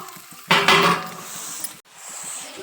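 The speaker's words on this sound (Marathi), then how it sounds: "आता आपण कांदा परतून घ्यायचा आहे" Onion stirred in two spoons of oil in a pan, a utensil scraping and clattering against the metal for about a second before settling into a soft, steady frying hiss.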